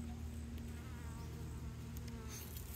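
Honeybees buzzing inside an opened top bar hive, a low continuous hum heard up close, steady and fairly faint with a few light knocks near the end.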